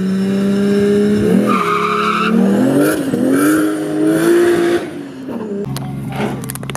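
A car with a 2JZ engine swap and a T56 Magnum gearbox revs up while setting up for runs, rising and falling loudly and close with a sustained tonal whine.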